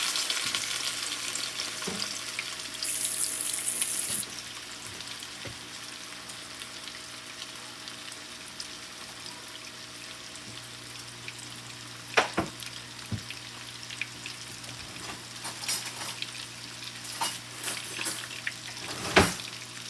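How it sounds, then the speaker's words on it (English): A roast being seared on a stovetop pan gives a steady low sizzle throughout, with occasional clinks and knocks of utensils and a short brighter hiss early on, no talking. "we're gonna sear our roast off, brown it on both sides"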